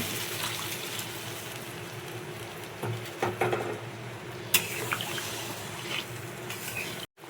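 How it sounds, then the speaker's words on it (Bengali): Water poured from a container into a pot of browned chicken curry masala in a home kitchen, a steady close trickle with a few splashy bursts midway, no talking, ending in a brief cut of silence. "ভালো মতন কষানোর পর আমরা পরিমাণ মতন জল দিয়ে দেবো"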